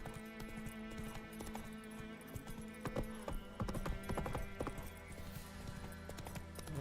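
The horse Roach trots steadily in The Witcher 3, with hooves clip-clopping in an even rhythm over a continuous game soundscape.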